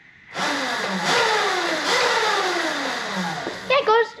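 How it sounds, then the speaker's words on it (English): An electric 72V Rawrr Mantis Mini R motorbike motor revs up and down in a rising, falling whine through several pitch sweeps, close and loud, followed at the end by a couple of short sharper bursts. "It does go vroom, vroom, vroom."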